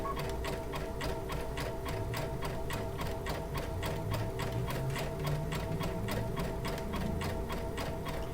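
Baby Lock Altair sewing machine stitching yarn down with a zigzag stitch, a steady rapid ticking rhythm of the needle running continuously at close range.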